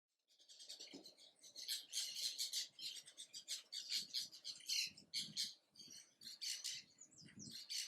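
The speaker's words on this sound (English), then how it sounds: "Keel-billed toucan." A keel-billed toucan gives a run of harsh, croaking squawks and chirps in quick irregular bursts, fairly close and alone without talk.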